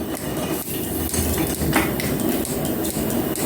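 A metal planer cuts a flat surface on a workpiece with rhythmic, heavy mechanical chugging, punctuated by repeated clanks and knocks as the table strokes back and forth, loud and close.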